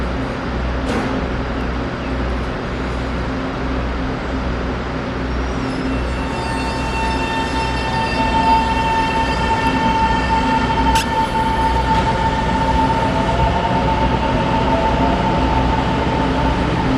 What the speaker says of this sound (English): This is a diesel local train. It's about to leave